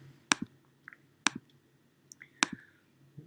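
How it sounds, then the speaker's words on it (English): Three crisp computer mouse clicks spaced about a second apart, each a sharp press followed by a softer release, close and clear over a quiet room with faint small noises between them. "Let me just quickly click on this."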